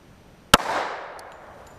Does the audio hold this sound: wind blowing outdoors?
no